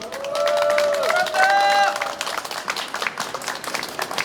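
Outdoor audience at a street busking event clapping, steady dense applause for a couple of seconds that thins into scattered claps while a voice speaks over it.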